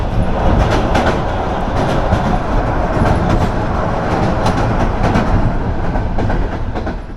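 A passenger train on the long Bishkek to Astana run rumbles loudly and steadily, with rhythmic clickety-clack of wheels over rail joints filling the whole stretch.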